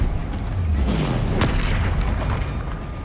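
A Confringo fire spell explodes in the Hogwarts Legacy game, a deep booming blast over a steady loud rumbling roar of combat effects, close and heavy with no talking.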